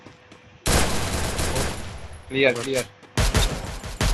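Rapid bursts of gunfire in a mobile battle royale game fight, loud and dense for several seconds, breaking off briefly while someone speaks, then resuming in sharp volleys.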